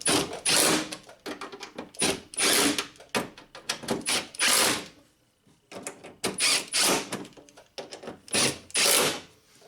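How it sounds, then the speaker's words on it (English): Bolts on a rear power window regulator of a 2006-2011 Honda Civic being run in and snugged with a tool, heard as repeated close, loud bursts of mechanical ratcheting and whirring separated by short pauses. "now we'll just snug these up and torque them to proper spec"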